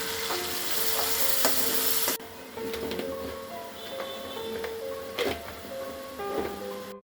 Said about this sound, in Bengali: অল্প ভাজা হলে এতে পেঁয়াজ বাটা যোগ করি।